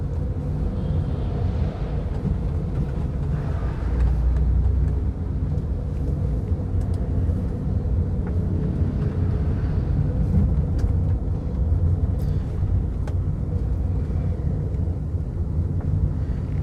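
A car engine pulls through its gears from inside the cabin, heard as a steady, moderately loud low drone with only slight swells and no clear breaks between shifts, and no one speaking.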